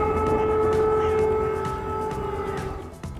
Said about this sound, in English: air raid sirens and bombardments continuing today across Ukraine